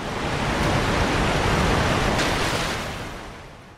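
Steady, loud rushing roar of a waterfall in Elden Ring, a broad continuous wash of falling water that swells slightly and then fades toward the end, with no voices.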